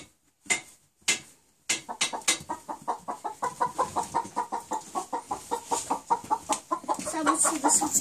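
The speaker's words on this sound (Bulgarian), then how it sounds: "Две кокошки." Two hens cluck close by in a quick, steady series of short clucks that builds in pace and density, with no talk heard.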